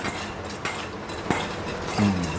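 Raw shrimp being tossed with salt in a bowl, soft wet squelching with several light clinks of a utensil against the dish at an uneven pace.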